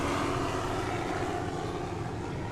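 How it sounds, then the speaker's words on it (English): A continuous engine roar of a helicopter overhead at a beach, loud and steady with a broad rumbling hum, no voices. "that's the helicopter."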